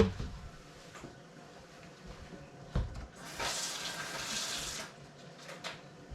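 A kitchen tap runs as canning jars are rinsed, a brief burst of splashing water rising in the middle over a quiet background of clinks and handling noises close by.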